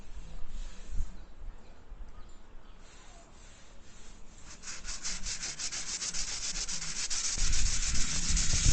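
Sandpaper rubbed by hand over a body panel of a 1995 Toyota Townace 4X4 van, a steady scratchy back-and-forth rasp heard close up with no talk, quieter at first and then growing louder and more rhythmic.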